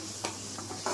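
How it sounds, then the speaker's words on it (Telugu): Spinach shallow-frying in oil gives a soft, continuous sizzle with a few brief stirring scrapes, faint and close. "బాగా షాలో ఫ్రై చేయాలి"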